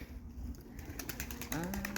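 A pigeon flaps its wings in a short burst of wingbeats, close and fairly faint, with a brief coo-like tone near the end.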